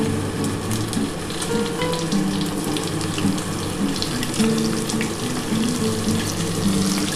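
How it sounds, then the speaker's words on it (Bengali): Chopped onion hits hot oil while a chilli prawn dish is being cooked, a steady, fairly loud sizzling hiss that holds evenly from start to finish with no voices. "এবার এই তেলটা গরম হয়ে গেলে আমি কিন্তু পেঁয়াজ কুচিয়ে রেখেছি, এই পেঁয়াজটা দিয়ে দিচ্ছি"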